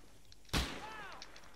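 A single loud gunshot cracks out in the Arma 3 video game battle of Hakamäki, followed by a brief ringing echo and faint distant sounds.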